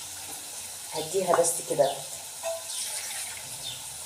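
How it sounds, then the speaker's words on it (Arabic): A small splash of water goes into tomatoes simmering in a pan, giving a brief pour and a hissing sizzle. Someone talks quietly over it. "يعني نقول مثلا شويه ميه كده صغيرين، ما يجوش ربع كوبايه"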